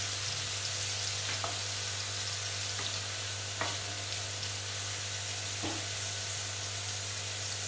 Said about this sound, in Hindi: प्याज को ज़्यादा भूनना नहीं है, 2 से 3 मिनट तक बस ऐसे ही इसे